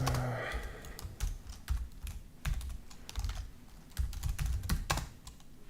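Fast, irregular clicking of a computer keyboard being typed on close by, in uneven bursts with no talk.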